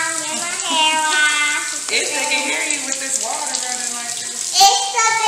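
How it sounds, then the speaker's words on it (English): Steady running water splashes continuously throughout, with a person's voice talking over it and a brief clatter near the end. "this water running like this"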